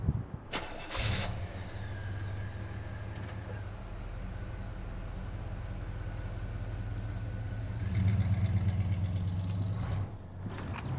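A 2020 Nissan Pathfinder starts up with a sharp crank and catch, then settles into a steady idle that rises briefly before easing back near the end.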